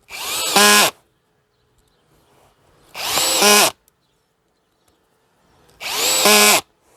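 Three short bursts of a brushless cordless impact drill driving a small screw with the clutch on its first setting, each under a second, separated by quiet pauses, close and fairly loud.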